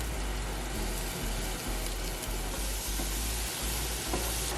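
Crumbled Beyond Meat plant-based patties fry in a pan with a steady, close sizzle and crackle, joined by a low rhythmic hum, and nobody talks.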